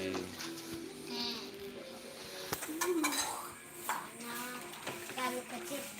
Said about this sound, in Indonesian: Ternyata Ipul di sini, masalah Ipul lagi cuci piring.